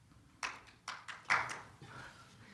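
Scattered audience clapping at a televised debate forum, a handful of distinct claps spaced unevenly, fairly faint and close together.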